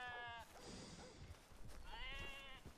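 Two wavering sheep bleats in Red Dead Redemption 2, fairly loud and close, with a rustle of background noise between them.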